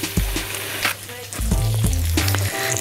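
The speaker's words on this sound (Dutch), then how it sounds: "Die pan die mag even lekker gaan sissen." Loud, steady sizzling of onions frying in a hot pan, with occasional stirring and scraping noises, continuous throughout.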